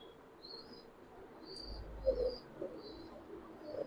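Pigeons at a pigeon farm give soft, low cooing calls, faint and intermittent, with a few high thin chirps and light background noise.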